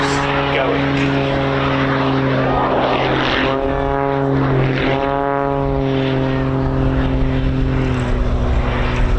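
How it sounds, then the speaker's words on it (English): A propeller aircraft at an airshow drones loudly overhead, its engine tone rising and falling in pitch as it passes, with steady wind and crowd noise and a voice talking under it. "Hear the propeller there beating the air into submission."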